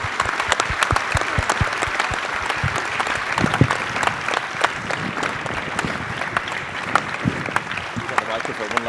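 Sustained, lively applause fills a conference hall at the GM Moving Conference 2025 opening plenary, many hands clapping densely and loudly with crowd murmur and voices mixed underneath.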